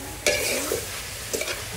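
Bitter gourd and egg stir-fried in a pan, a soft continuous sizzle with two distinct scraping stir strokes of a utensil, heard up close with no talking.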